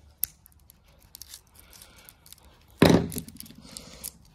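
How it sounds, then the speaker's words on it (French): Cutting pliers clip through the plastic filler of an RJ45 network cable in one sharp, close snip, preceded by faint rustling and small handling clicks. "Celui-là, on va le couper avec la pince."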